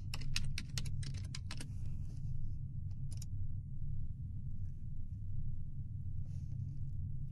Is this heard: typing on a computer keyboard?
yes